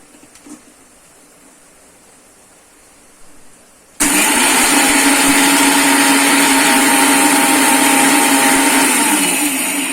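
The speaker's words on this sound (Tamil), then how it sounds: "ரெண்டு ஸ்பூன் தண்ணி ஊற்றி மிக்சியில் அடிச்சுக்கணும்." After a quiet stretch, a mixer grinder abruptly switches on and runs with a loud, steady whirring buzz until the end, blending coconut paste with roasted gram and a little water.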